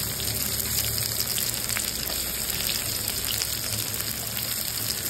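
Sliced onions sizzle in hot oil in a wok already seasoned with bay leaf, whole garam masala and nigella seeds, a loud, steady hissing crackle that runs throughout.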